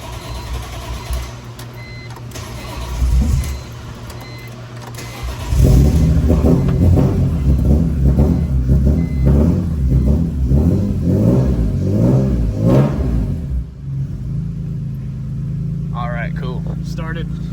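A BMW E46 M3 engine in a wagon build cranks for a moment, catches and revs hard in a loud pulsing roar, then settles to a steady idle while a person talks briefly near the end.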